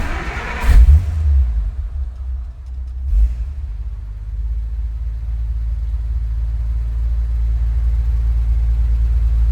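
A 1956 Willys Overland pickup engine drops off high idle into a deep, steady, loud low rumble that runs unbroken. A brief mechanical clunk sounds near the start, with no voices.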